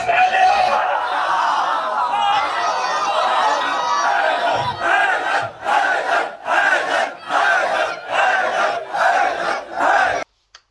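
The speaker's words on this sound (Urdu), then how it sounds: "پبلک نعرے مار رہی ہے" A large crowd at a religious speech by a cleric shouts slogans in unison. The loud, massed voices swell in a long roar, then break into rhythmic call-and-response bursts with brief pauses between them.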